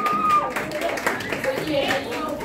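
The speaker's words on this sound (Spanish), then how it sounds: "Y ese aplauso bien bonito para Jenis, que se escuche." Audience clapping at a quinceañera with a youth mariachi band, moderate and somewhat uneven, mixed with voices and a ringing tone throughout.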